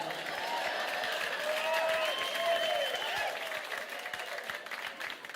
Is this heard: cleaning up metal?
no